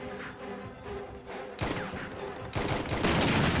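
Gunshots from the video game Wanted: Weapons of Fate, loud bursts of fire that come in at about 1.6 seconds and build into heavier rapid shooting near the end, over steady game background noise, with no talking.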